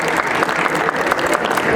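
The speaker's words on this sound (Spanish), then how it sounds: "Un fuerte aplauso para recibirla" An audience at a vaccination services seminar gives dense, steady applause, many hands clapping continuously at full volume with a faint crowd murmur under it.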